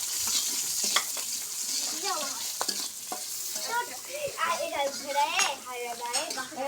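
Chopped onion, garlic and green chili fry in a pan, giving a steady sizzle with frequent scraping stirs and clinks of a spatula against metal. A voice is faintly audible in the background.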